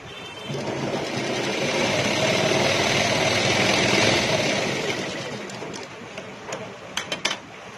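A sewing machine runs a continuous stitch along a salwar leg strip for about five seconds, a close steady motor whir, followed by a few sharp clicks and knocks.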